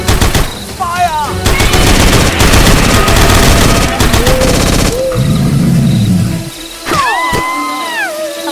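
Rapid gunfire effects in a toy construction-vehicle action scene, bursting loudly over dense music and other effects, followed by shouting voices and brief animated whoops and tones.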